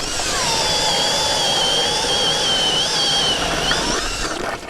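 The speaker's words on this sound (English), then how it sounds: "My Milwaukee drill" A Milwaukee power drill boring a hole through thick ice whines steadily at high pitch for about four seconds, loud and close, then winds down abruptly.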